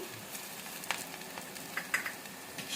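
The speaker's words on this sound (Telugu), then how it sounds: "ఆనియన్ మంచిగా వేగుతున్నాయి కదా ఇప్పుడు ఈ పోపు గింజలు కరివేపాకు కూడా వేద్దాము" Onions, tempering seeds and curry leaves fry in oil for gongura dal, a soft steady sizzle with faint crackles and a few sharper pops, alone and fairly quiet.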